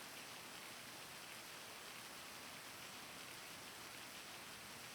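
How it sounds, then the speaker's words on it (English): Heavy rain roars steadily and loudly, a dense unbroken wash of drops in a game setting about a plague, with no talk over it. "Why is the rain so loud?"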